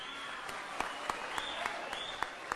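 A crowd applauds the president of Kenya at an outdoor event in Embu, a faint, distant clatter of clapping with a few sharper claps standing out and indistinct voices in the background.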